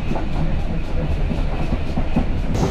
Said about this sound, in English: I really like the clear sound of the exhaust steam when the regulator is nudged open a bit.